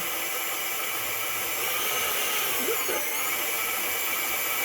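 Stand mixer kneading dough for buttery bubble bread, a loud steady motor whine and hiss running throughout with no break.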